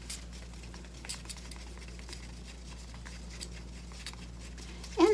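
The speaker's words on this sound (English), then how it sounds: "And I am turning as I stir too" A stick stirs acrylic paint in a cup for a puddle pour, making a soft, steady scraping and patter that stays faint and close throughout, with a slightly louder knock near the end.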